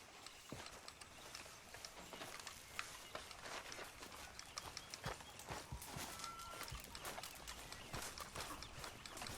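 Horse hooves clop at a steady walking pace in Red Dead Redemption 2, a rhythmic series of hoof strikes over faint background noise, with soft bird sounds.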